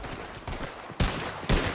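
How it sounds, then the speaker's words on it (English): Enemy gunfire in Red Dead Redemption 2, two or three sharp loud shots about half a second apart over a rumbling background, close and without talk. "He's shooting!"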